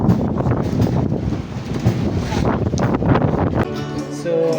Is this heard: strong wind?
yes